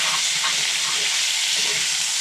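Ground meat for egg rolls fries in a pan while being stirred, a dense loud continuous sizzle with faint scraping pulses and no speech.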